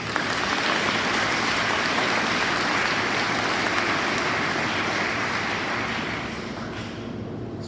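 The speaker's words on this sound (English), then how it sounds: "Round of applause, please." A large audience at an on-base military ceremony gives sustained, dense applause, a loud rain-like wash of clapping that holds steady and then tapers off near the end.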